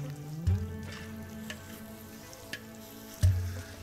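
Masala being stirred in a pan for pav bhaji with a little water makes a low, steady bubbling sizzle, broken by two heavier scrapes or thuds of the spoon near the start and end, close and moderately quiet.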